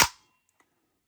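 The bolt of a PM-98 submachine gun is released and slams forward with a single sharp, close metallic clack, followed by a faint tick and then silence.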